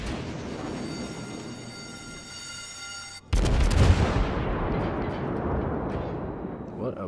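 Naval gunfire in World of Warships, an enemy ship's shells striking and exploding near the player's vessel: a sudden heavy boom cuts through steady engine and ocean ambience, then a rumbling roar lingers beneath a voice talking.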